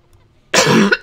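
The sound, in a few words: person coughing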